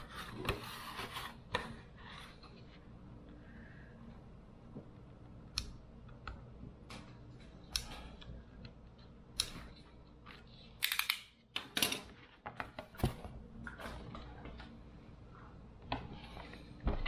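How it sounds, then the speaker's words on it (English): A razor knife scores and snaps a Kydex sheet, giving sparse sharp clicks, scrapes and a few louder snapping cracks spread over a quiet background, close by. "Score this and break it now."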